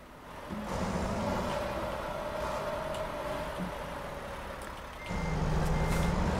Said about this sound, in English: Back this truck up.